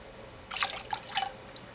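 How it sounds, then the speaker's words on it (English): Water splashes briefly into chokecherry juice in two short pours, close and bright, with quiet pauses between them and no talking. "I'm going to add an equal amount of water to this"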